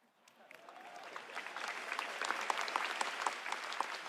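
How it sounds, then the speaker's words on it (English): A large conference crowd at GTC Taipei 2026 applauds pre-game show performers, the clapping starting faint and swelling into a full, sustained roar of many hands. "a round of applause for our pre-game show superstars"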